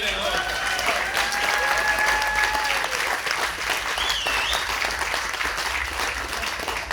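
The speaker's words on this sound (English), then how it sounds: "Give her a round of applause." An audience at a UNISON Eastern Region union gathering applauds a regional secretary with steady, dense clapping that lasts throughout and stays even in loudness, with a few faint whistles over it.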